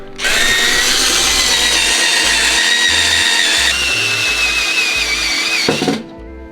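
A power drill drives an OEM body fastener screw into the interior of an S13, whining loudly and close for about six seconds with pitch dips under load before stopping abruptly.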